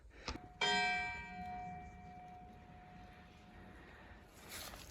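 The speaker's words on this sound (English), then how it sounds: "4 o'clock, bells just went" A church bell in the UK countryside strikes four o'clock, one clear ringing stroke with a long, slowly fading hum, heard from a distance outdoors over light wind noise.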